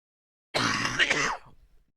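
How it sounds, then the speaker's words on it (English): One person gives a single harsh cough and throat clearing at close range, about a second long, trailing into a softer rasp before silence. "we're just gonna keep randomly coughing here"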